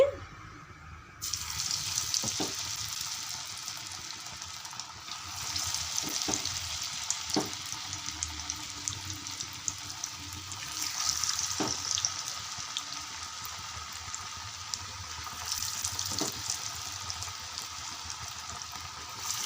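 Potato vadas sizzle in hot oil in a kitchen pan, a steady close frying hiss broken by periodic clinks and stirring taps, with no talk over it.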